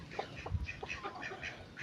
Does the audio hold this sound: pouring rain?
no